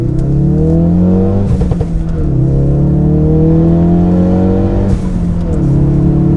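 A Ford Focus RS pulls hard from first gear, its engine note climbing steadily in a loud, close, continuous rise with brief dips at the gear changes and no talking over it.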